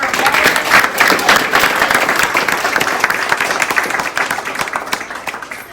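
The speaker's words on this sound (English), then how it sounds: "give everyone another round of applause" Loud, dense applause and clapping from an audience at a children's piano recital, strongest at the start and slowly thinning as it goes on, with a faint voice underneath.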